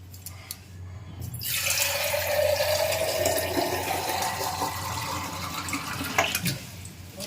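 A tap opens and water gushes steadily into a vessel at a kitchen sink, a close rushing stream whose pitch rises as it fills, then the flow cuts off near the end.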